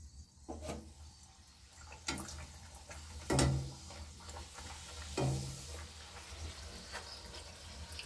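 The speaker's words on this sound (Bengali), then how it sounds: "এবার এই লুচিটা আমি ছেঁকে নিচ্ছি" Luchi deep-frying in hot oil, a soft continuous sizzle with scattered bubbling and a few sharp clinks and scrapes of a slotted spoon against the pan.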